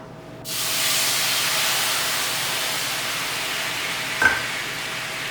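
Half a cup of beef stock hits a pan heated to medium-high and bursts into a loud, steady hiss that holds for several seconds, broken near the end by one sharp metallic clink.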